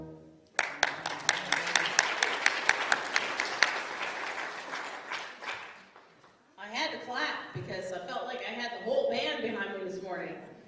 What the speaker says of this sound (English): you guys deserve that applause